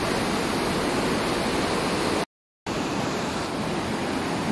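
A river flows through the Guam Gorge as a dense, steady rush of water, loud and constant, broken once by a brief cut to silence.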